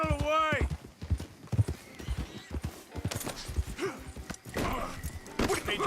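Horse hooves clip-clop steadily in Red Dead Redemption 2, with a neigh near the start and shouted voices over the rhythmic hoofbeats.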